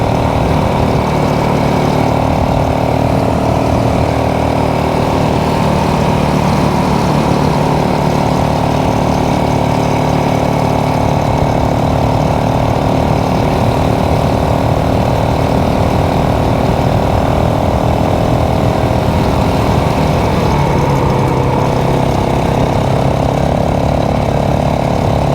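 A motorcycle engine drones steadily and close throughout a ride along a tree-lined road near Cook Lake, its tone shifting slightly near the end as the revs change.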